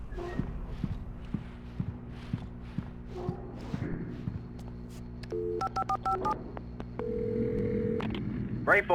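Telephone keypad dialing on a gas station phone in the video game Alan Wake: a quick run of paired tone beeps, then a steady tone, over game background sounds and voices.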